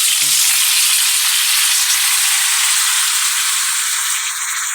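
Tomato dropped into a pan of sautéing garlic and curry leaves, with a loud, steady sizzle and frying hiss that starts strong and runs throughout, close up and with no talking.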